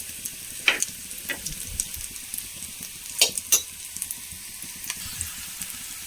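Chopped onion and papaya stir-fry in a pan, with a steady close sizzle and a few sharp scrapes and clinks of the spoon against the pan as it is stirred.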